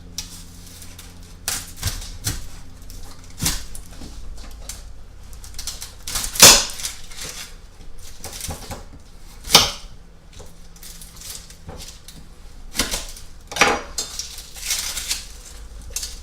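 An onion being cut with a knife on a board, a string of irregular sharp taps and chops, some soft and a few louder thuds, close, with no talk.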